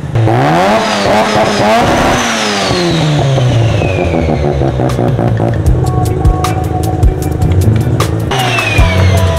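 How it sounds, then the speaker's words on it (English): A built Mazda RX7 with a huge exhaust and turbo revs loudly and close by, its engine climbing and falling through repeated sharp revs with a continuous rough drone, heard alone before a dyno run. "I think I can just film video of me just revving this thing."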